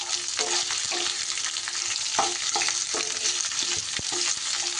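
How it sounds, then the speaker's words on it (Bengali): Onion frying in a pan for a South Indian raw mango rice, giving a continuous loud close sizzle broken by repeated stirring knocks and scrapes at an irregular pace, with no talking. "এবার পেঁয়াজটা দিয়েও কিন্তু খুব সুন্দর করে পেঁয়াজটাকেও একটু ভাজা ভাজা করে নিতে হবে"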